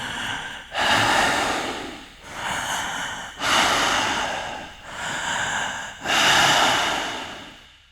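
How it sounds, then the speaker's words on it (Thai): Heavy, ragged panting like someone exhausted after a long run, used as a ghost-story sound effect. About five loud, close breaths rise and fall in a steady rhythm with no talking. "ได้ยินเสียงคนหายใจดังฟืดฟาดเหมือนคนที่เหนื่อยจากการไปวิ่งมาไกล"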